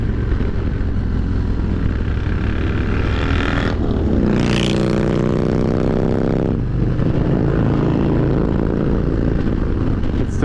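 A 2023 Harley-Davidson Road Glide Special's V-twin engine and exhaust rumble loudly while riding, a steady deep drone that rises in pitch as the bike accelerates through a gear, then drops and settles after a shift, heavy wind noise throughout.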